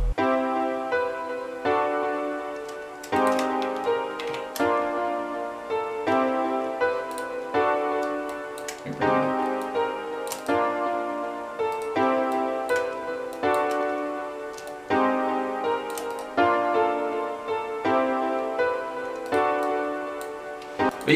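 A chord progression plays back from FL Studio as a looping sequence of rhythmic synthesized chords with sharp ticking percussive hits keeping a steady pulse, clean and continuous with no talking.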